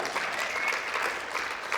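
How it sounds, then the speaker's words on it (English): An audience at a talk applauds in a steady, dense wash of clapping that carries evenly throughout, with no voices rising above it. "Clap it up for him."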